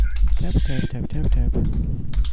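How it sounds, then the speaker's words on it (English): Rapid clicking of a computer keyboard being typed on close to the microphone, a steady patter of keystrokes running under a man's speech. "You can all hear me typing."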